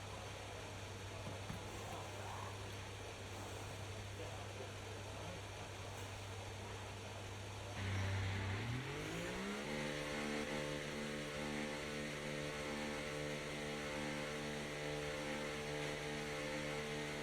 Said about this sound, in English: Okay, engines fired up.